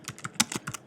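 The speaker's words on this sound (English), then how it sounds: "So I'll continue typing." Rapid, uneven keystrokes on a Mac computer keyboard, about a dozen distinct clicks in one second, close and clear with no voices.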